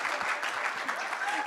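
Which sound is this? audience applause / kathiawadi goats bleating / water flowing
audience applause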